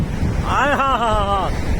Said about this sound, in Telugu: ఆ బీచ్ చూడండి, అలలు ఉప్పొంగిపోతున్నాయి అలలు.